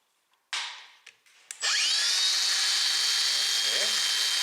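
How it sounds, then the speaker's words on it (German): A Makita DGA511Z cordless angle grinder set to speed 5 starts with a few short clicks and bursts, then spins up into a steady, loud high-pitched whine that holds to the end. "ich gehe jetzt mal auf 5 und lasse die Flex jetzt mal anlaufen"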